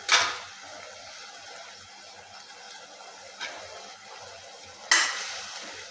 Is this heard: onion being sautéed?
yes